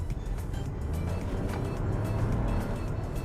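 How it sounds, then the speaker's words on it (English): Engine of a Proton X50 SUV revving with a faint turbo whistle and exhaust note, a steady, fairly loud drone with rising and falling roar throughout. "you hear the turbo whistle, you hear the engine revving, you hear the exhaust note."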